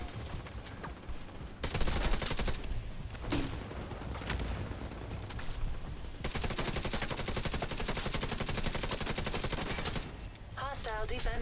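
Sustained bursts of automatic gunfire from a first-person shooter battle in Brooklyn, dense and rapid with brief pauses, and a voice speaking briefly near the end.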